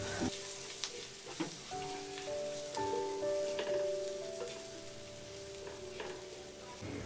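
Farsan bhaji with fresh coriander gets stirred in a frying pan just after the gas is turned off, a soft, continuous sizzle with scraping stir strokes close by, and no talking.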